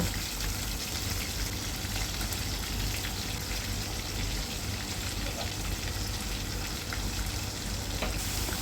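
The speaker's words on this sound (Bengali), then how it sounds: "তারপর মশলাগুলোকে তেলে ভালো করে ভেজে নিব" Spices such as ginger, garlic, turmeric, chili, coriander and cumin frying in hot oil, a loud dense continuous sizzle that holds steady throughout, close and without speech.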